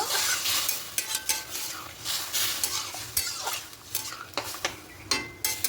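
Rice for rose-scented pulao being stirred with rose water in a pot, a steady run of scraping, sloshing strokes with soft clinks of the utensil against the pan, close and fairly quiet, with no talking.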